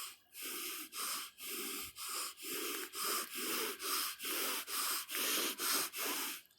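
Forceful pranayama breathing, about a dozen strong, rhythmic rasping breaths in a steady, evenly spaced cycle, close and loud, with short gaps between them and no talk.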